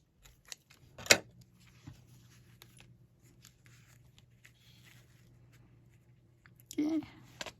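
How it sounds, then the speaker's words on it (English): Paper scissors cut pink lace for a handmade mini notebook, producing two brief, crisp snips, one near the start and one near the end, with quiet handling noise between them. "I'm using my paper scissors for this."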